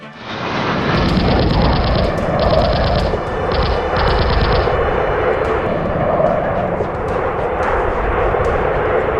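Rapid machine gun bursts from a B-17 tail gun position over a loud, steady drone of aircraft engines, several short staccato volleys in the first half, close and dense.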